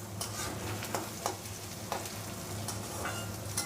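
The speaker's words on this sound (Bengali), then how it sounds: "পেঁয়াজটা বেশি ভাজবো না" Onions frying lightly in a pan for a Bombay duck curry, a steady close sizzle with soft periodic stirring scrapes.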